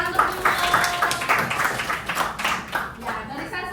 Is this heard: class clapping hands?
yes